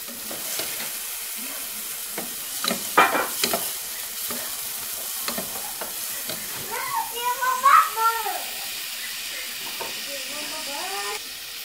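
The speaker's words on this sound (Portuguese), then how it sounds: "Refogo bem ela." Ground beef sautés in a pan, giving a close sizzling hiss broken by sharp scraping stirs, and voices talk over the frying midway through.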